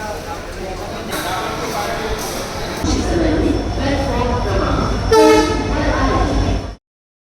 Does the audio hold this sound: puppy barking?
no